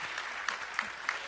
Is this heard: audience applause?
yes